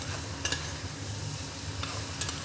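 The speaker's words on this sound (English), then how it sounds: "Keep this stirring" Carrots, butternut squash and chickpeas being stirred in a cooking pan, a low sizzle with a few sharp scrapes of the utensil against the pan, close and without talking.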